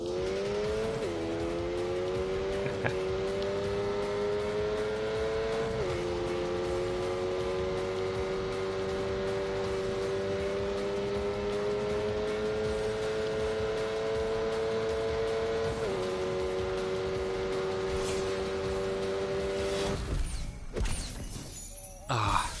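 A racing car's engine in The Grand Tour video game, holding a loud, steady high-pitched drone with a few brief gear-shift dips, then breaking into a burst of clattering noise near the end; no voices.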